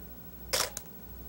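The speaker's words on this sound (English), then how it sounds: "I'm going to press the shutter release and see what happens." A camera shutter release fires close by, a sharp mechanical click-clack followed by a second short click, isolated against a quiet background with no talk.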